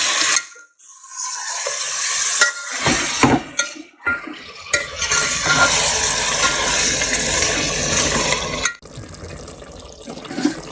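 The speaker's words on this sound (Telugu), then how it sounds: "పెరుగు కూడా యాడ్ చేసుకొని చక్కగా ఈ పెరుగు అంతా బాగా కలిపేసి ఒకసారి కలిపేసుకోండి." Yogurt being stirred into chicken biryani masala in a pot, wet squelching and scraping with a few spoon clinks against the metal, close and continuous with brief quiet gaps.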